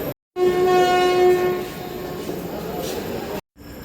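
Kriya Yoga Express standing at Jhargram station at night, giving a loud, steady train hum with a sustained horn-like tone at first, framed by brief dropouts.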